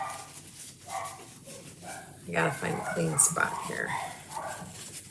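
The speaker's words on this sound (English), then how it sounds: "The dogs are going nuts." Dogs bark and yip indoors in a home while someone talks over them. The barks come in short, uneven bursts, at moderate distance and mostly mixed under her voice.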